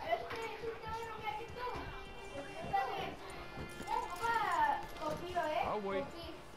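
Horse hooves clip-clop in Red Dead Redemption 2, a steady rhythmic beat under game music and character speech, with tonal voices rising over it toward the end.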